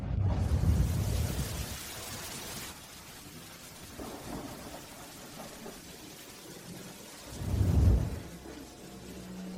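A thunderstorm rumbles with heavy booms of thunder, a loud one at the start, a softer roll midway and another strong crack near the end, over a constant hiss of rain falling on surfaces.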